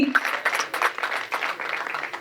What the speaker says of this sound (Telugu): ఒకసారి అందరూ కూడా గట్టిగా చప్పట్లు, గట్టిగా.